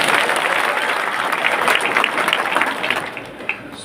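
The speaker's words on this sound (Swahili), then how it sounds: "Joemira hata mwezi piga makofi." A crowd at a formal Kenyan gathering claps in a sustained, fairly loud burst that tapers slightly toward the end, with one sharper clap standing out near the finish.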